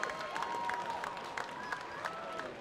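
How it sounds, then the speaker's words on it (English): Crowd applause for two boxers after three hard-fought rounds at a boxing event, scattered clapping and cheering, fairly faint and distant, with murmuring voices under it. "round of applause, please, for both of these men after three hard-fought rounds."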